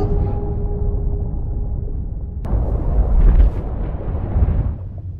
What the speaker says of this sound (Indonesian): Bom meledak di dasar laut, namun kapal USS selamat dengan bersembunyi di bawah lumpur yang tebal.